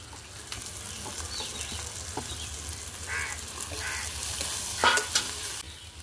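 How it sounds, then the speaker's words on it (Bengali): Ground soybean powder is stirred in a hot frying pan, with a spatula scraping and tapping against the pan over a continuous low sizzle, close and fairly steady. "একটু ভালো করে নাড়াচাড়া করে নেব।"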